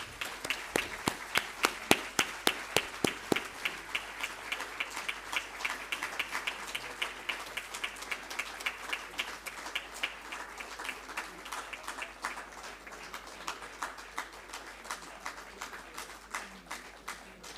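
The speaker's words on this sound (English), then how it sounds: "Let's give them a big round of applause." An audience at the Western Cape 2024 NSC awards ceremony gives learners a round of applause, a long, even run of steady rhythmic claps that stays moderately loud throughout.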